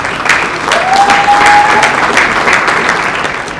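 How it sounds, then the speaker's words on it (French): An audience at a business award ceremony in a hotel breaks into continuous, loud applause that holds steady throughout, with a faint tone sounding briefly in the middle. "je vous prie d'accueillir monsieur Soulé Kaouka sous vos applaudissements s'il vous plaît"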